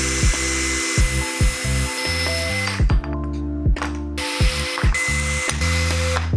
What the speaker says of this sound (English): Go ahead and put the arrow in your drill chuck and get it started.